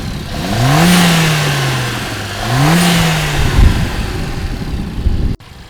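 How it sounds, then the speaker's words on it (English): A stock-intake 2020 Mercedes CLA 45 AMG engine, hood up, revs twice in a rising then falling sweep, loud and close, before settling toward idle and cutting off abruptly near the end. "start the car up"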